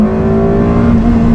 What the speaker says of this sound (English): there's nothing like downshifting a gated manual